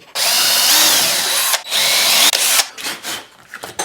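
A small power drill bores into a Kydex holster in two close, loud bursts of whining, each ending abruptly, followed by fainter scraping and handling sounds.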